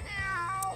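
A single short cat meow, fairly faint and alone, with a rising then falling tone.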